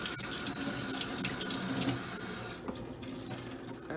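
A kitchen tap runs steadily into a sink while food is washed, a loud continuous gush that eases slightly near the end, no talking.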